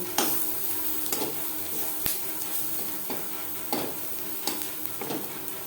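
Onion with turmeric fries in a pan, a soft steady sizzle punctuated by regular scraping stirs about once a second, with one sharper clack of the utensil against the metal.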